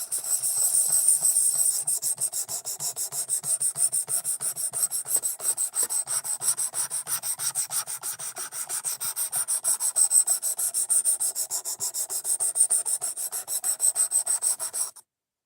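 An Ozark Trail axis lock knife blade is sharpened on a 400 grit stone with fast, rhythmic rasping strokes, close and crisp, repeating steadily for the whole stretch before stopping abruptly at the end.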